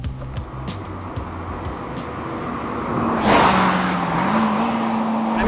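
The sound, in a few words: car engine revving through gears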